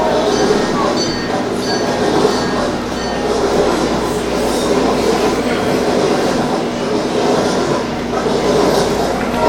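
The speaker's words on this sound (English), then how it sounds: "The train is coming." A train rumbles loudly and steadily as it pulls into a station, with a constant mechanical roar, faint rail rattle and a steady hum, continuing without a break while a voice speaks faintly beneath it.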